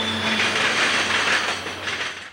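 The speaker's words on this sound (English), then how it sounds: "A trio of SD40-2s leads a train across the Norfolk Southern Diamonds." Three CSX SD40-2 diesel locomotives lead a train across the Norfolk Southern diamonds at the 27th Street interlocking in Birmingham, Alabama: a steady rumbling roll with wheel clatter and a brief high squeal, heard alone.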